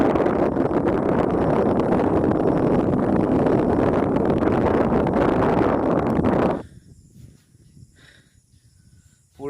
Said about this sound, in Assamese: পুৰা বতাহ মাৰি আছে ইয়াত।